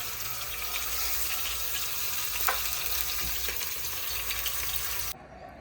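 Food frying in a pan gives a loud, steady, crackling sizzle close by for about five seconds, then cuts off abruptly.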